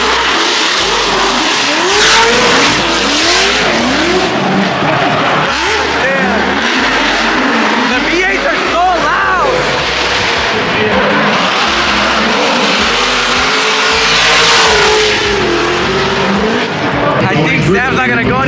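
A 1000-horsepower BMW drift car at a Formula Drift event roars and revs hard with squealing tires, engine loud and close throughout, rising and falling as it slides, while people talk over it.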